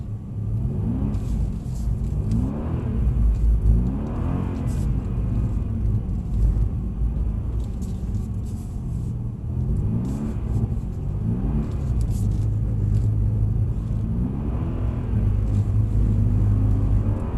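A Mercedes-Benz car drives along at Mercedes Benz World, its engine rumbling low and rising in repeated revving surges as it accelerates, heard steadily from inside the cabin with no voices.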